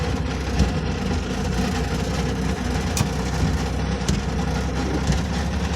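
A KrAZ truck crane's diesel engine drones steadily while being tow-started by a mini tractor, with a low heavy rumble, occasional knocks and mechanical clanks throughout.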